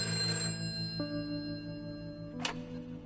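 A telephone rings faintly while someone places a call from a jail. Steady ringing tones hold through the quiet, and a brief sharp click comes near the end.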